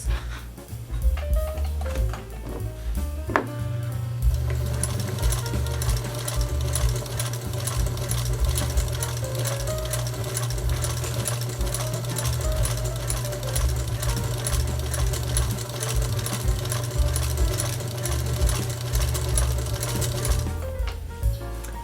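A vintage Singer Featherweight 221 sewing machine runs steadily for about twenty seconds, its fast, even mechanical whir and needle clatter loud and close, with a brief start-up burst of clicks at the beginning.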